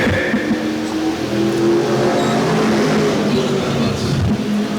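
American Vintage Modified race cars roar around the oval at Waterford, a loud, steady engine drone with rising and falling revs as the pack runs down the backstretch, no talk.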